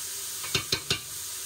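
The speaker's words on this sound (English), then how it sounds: "I'm gonna add a nice spoon of clarified butter" Mushrooms and ginger sizzling in a pan of clarified butter, a steady hiss with three quick stirring scrapes in close succession, nearby and fairly quiet.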